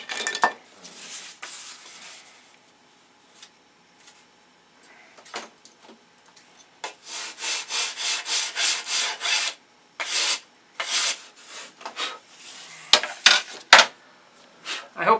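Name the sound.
sanding a wooden wing part square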